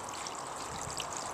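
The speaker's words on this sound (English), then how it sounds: "I'll give you a close-up of the waterfall" A small garden pond waterfall trickles steadily over rocks and cobbles, close by, in a continuous even babble with no voices.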